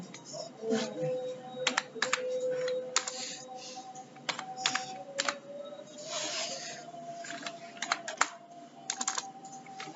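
Keywords being typed on a computer keyboard: scattered bursts of quick key clicks spread across ten seconds, close and moderately loud, with a faint steady whine in the background.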